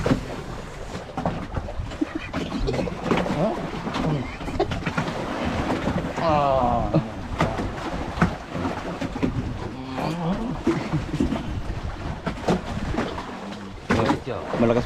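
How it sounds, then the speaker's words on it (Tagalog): A boat engine labors under heavy load as people talk over it, a steady rumbling drone with wind buffeting and splashing water, close and continuous throughout. "Parang kargado ang makina."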